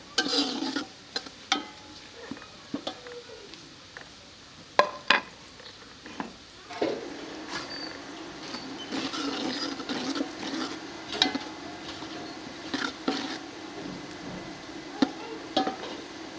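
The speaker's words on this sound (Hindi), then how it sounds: "इसे थोड़ा सा फ्राई कर लेंगे 1 मिनट के लिए।" Whole spices (black cardamom, cumin, cloves, cinnamon, bay leaf) fry in a pan for pulao, with scattered sharp clicks and crackles early, then a steadier soft sizzle with utensil taps, close and moderate in level.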